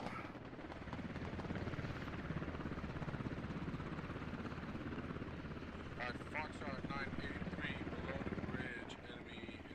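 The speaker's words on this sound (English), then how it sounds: "Helicopter's out" A military helicopter in the video game Squad, its rotor and engine drone steady and loud from start to finish, with voices talking over it.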